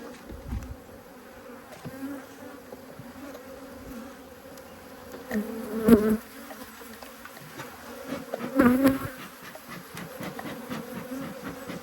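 A steady drone of many honeybees buzzing around an apiary hive during an inspection with smoke, with louder swells as insects pass close by.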